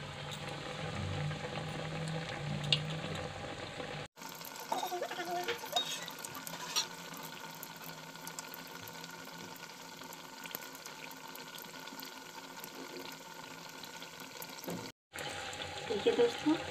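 Potato and gram flour pakoras fry in hot oil with a steady bubbling sizzle through the clip, joined by soft clinks and some low talking, and cut by two short breaks.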